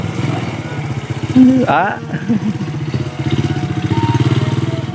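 A motorcycle rides downhill along a remote Sundanese village road, its mid-pitched engine chugging steadily nearby while a person speaks briefly over it.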